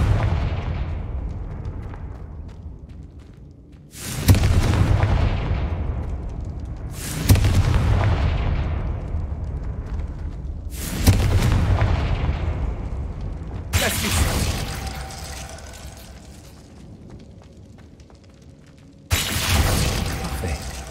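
Repeated Confringo fire spell explosions in Hogwarts Legacy, five heavy booms spaced a few seconds apart, each hitting hard and then rumbling down into a long decaying tail, loud and close, with no talking.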